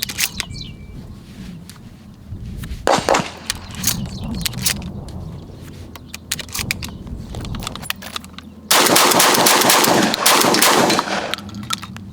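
Benelli M3 dual-mode shotgun firing Lambro buckshot outdoors: a loud sharp blast near the three-second mark, then a long burst of heavy mechanical rattling and handling noise, with no talk.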